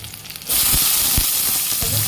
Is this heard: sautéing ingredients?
yes